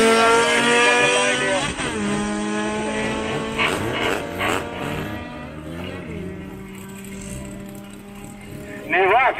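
A drag racing car idles loudly at the start line of a drag strip meet, a steady harmonic engine drone that swells in quick revs near the beginning and again at the very end, with an announcer's voice faintly underneath.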